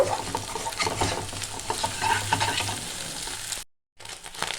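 Egg frying for chow mein in a pan, a steady sizzle broken by repeated scraping stirs, close and alone, cutting out briefly near the end.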